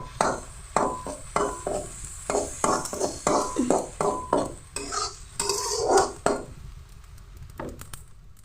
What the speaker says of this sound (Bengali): নুন দেবো, হলুদ দেবো। দিয়ে ভালো করে নাড়িয়ে নেব।